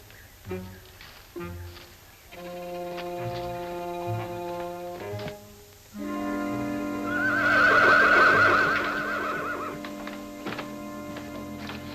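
A horse whinnies loudly in the middle, rising out of ranch-scene background sounds with a few soft hoof knocks and a sustained musical tone.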